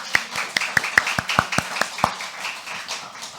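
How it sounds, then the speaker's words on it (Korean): Clapping from a church congregation during a Sunday worship service. Sharp hand claps are scattered and irregular, about a dozen over a few seconds, and sound fairly close with no talk. "옆 사람을 해서 박수 좀 쳐주세요."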